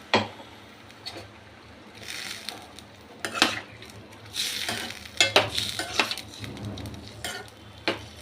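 Vegetarian papaya curry in a pan is stirred after turmeric-ginger wash water is added. Intermittent scraping and clinking strokes come in separate bursts over a quiet simmering background.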